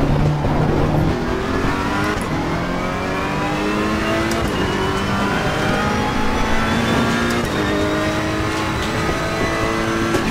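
A race car in the Assetto Corsa Competizione sim, engine revving hard and stepping through downshifts and upshifts with rising and falling pitch, loud and continuous throughout with no speech.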